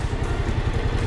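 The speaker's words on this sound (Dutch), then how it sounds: "ik heb ook zo'n motor, een militaire motor, kijk. Nou, het is een oude Harley." An old military Harley motorcycle engine idles close by with a rapid, even low-pitched chugging throb, no talking over it.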